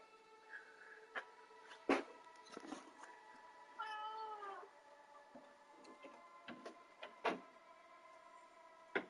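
A pet cat lets out a soft, drawn-out meow among quiet indoor rustles and clicks, faint and close in a calm room.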